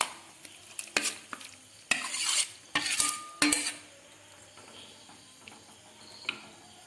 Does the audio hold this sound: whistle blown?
no